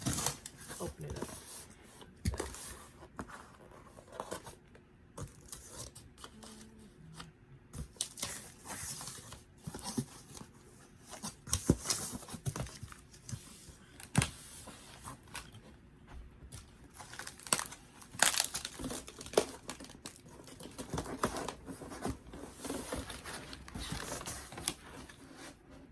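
A custom cardboard guitar shipping box is cut and opened, with irregular close scraping, tearing and crinkling of cardboard over the whole stretch, mixed with handling noises and occasional speech.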